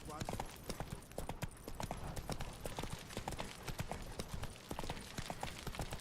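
Roach, Geralt's horse in The Witcher 3, clip-clops along at a steady trot, close and rhythmic hoofbeats, with someone talking over them.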